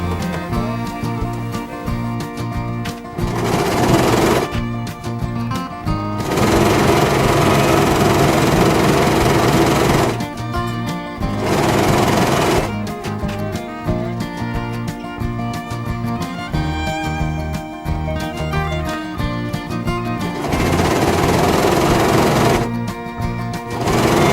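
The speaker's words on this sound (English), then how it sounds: "Now we're back at the sewing machine, and it is the same thing where we take 2 of our squares, right sides together, 1/4 inch seam along the edge." A sewing machine stitches quilt squares with a 1/4 inch seam, running in long loud mechanical whirring bursts separated by brief pauses, close and steady.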